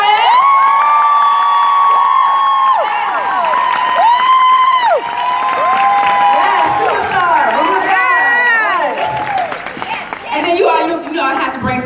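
An excited crowd at a MegaFest conference event cheers and whoops for a woman pastor, with loud high shouts and hollers layered over talk and some clapping, energetic throughout.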